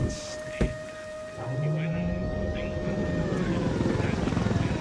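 Helicopter lifting off in the video game Ghost Recon Wildlands, its rotor and engine swelling into a steady loud roar after a sharp thump, with a voice talking over it.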